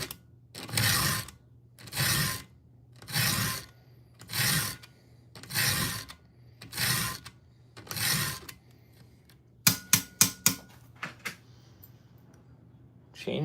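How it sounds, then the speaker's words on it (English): Hand filing of a Husqvarna chainsaw chain, seven steady rasping file strokes at an even rhythm, close and clear, followed by a few sharp clicks and taps. "Chain's sharpening up nice."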